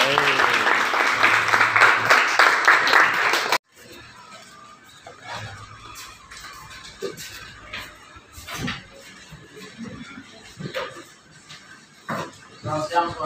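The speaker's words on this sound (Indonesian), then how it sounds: "Tepuk tangan." Applause from a school class audience at a presentation on global warming, a dense burst of clapping for about three and a half seconds that stops abruptly, followed by quiet room noise and scattered small knocks.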